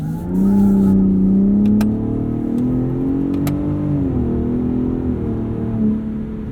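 2021 Ford F-150 Raptor with the 37 Performance Package accelerating on a dirt road, its engine note climbing loudly and steadily from inside the cab, with brief gear-change dips and a few sharp clicks.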